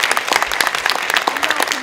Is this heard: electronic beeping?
no